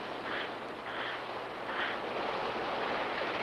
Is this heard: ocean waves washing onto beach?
yes